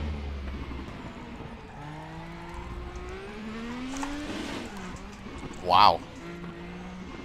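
Race car engine droning and shifting pitch in the RaceRoom racing game at TT Circuit Assen as the car nearly spins out, with a brief loud burst near the end and a voice reacting over it.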